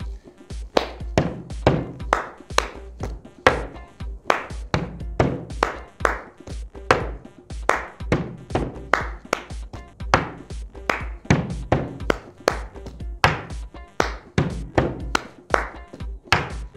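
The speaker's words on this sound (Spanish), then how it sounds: "Agarro el vaso y golpeo la mesa." Body percussion of hand claps, palms slapping a table and a drinking glass knocked on the tabletop, a slow repeating pattern of sharp close hits and thuds kept up steadily throughout.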